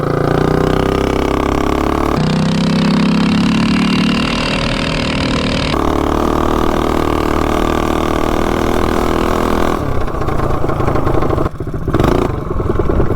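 A Coleman mini bike fitted with a Shred Head engine revs loudly and close, the engine note climbing and holding in sustained bursts, then dropping off with a brief sputter near the end.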